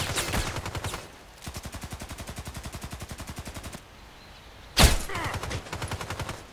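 Sniper rifle gunfire in the online shooter game Contract Wars on the Old Sawmill map: rapid strings of evenly spaced shots in long bursts, with a brief pause and one louder sharp blast before the firing resumes.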